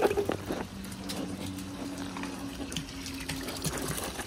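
Water from a garden hose runs steadily into a backyard pool, a continuous low gushing and splashing that stays fairly quiet and even throughout, with no talking.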